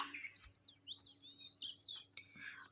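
A sparrow chirps in quick, bright bursts, several calls close by against a quiet background.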